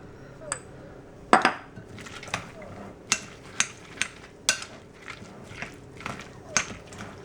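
A utensil stirs a thick dill pickle dip in a bowl, giving a series of separate clinks and scrapes at an uneven rhythm, close and fairly loud, with a quiet background otherwise.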